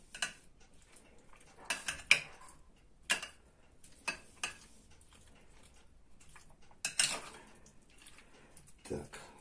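Pipirrana, an Andalusian tomato salad, tossed in a bowl, with intermittent clinks and scrapes of a utensil against the dish separated by quiet gaps, close and fairly soft.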